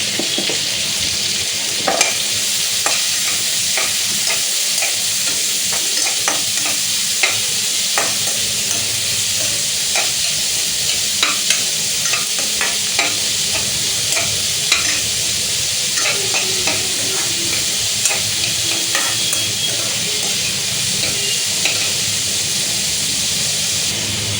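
Asafoetida and onion hit very hot oil in a pan, giving a loud, steady, continuous sizzle and hiss with occasional sharper crackles and stirring clatter, heard alone without talk.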